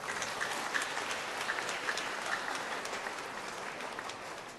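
A congregation claps during a homily at an evening Mass, a sustained, quiet spread of clapping from many people in a large space that tapers off slightly toward the end.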